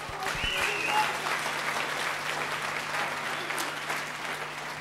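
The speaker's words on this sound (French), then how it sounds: "Applaudissons pour Jésus." Applause from a church congregation during a French-language service, steady and sustained clapping from a crowd for about five seconds, fairly close and dense, with no talking over it.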